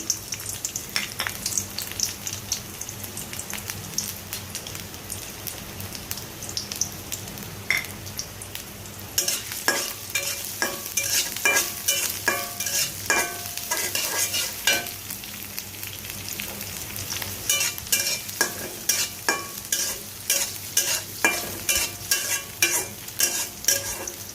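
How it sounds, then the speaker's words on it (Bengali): Onions poured into already hot oil for a pointed gourd fry sizzle continuously, and from about the midpoint rhythmic scraping stir strokes clatter close by in the pan, with no talking. "তেলটা অলরেডি গরম হয়ে গিয়েছে, এখন এর মধ্যে আমি পেঁয়াজটা ঢেলে দিচ্ছি"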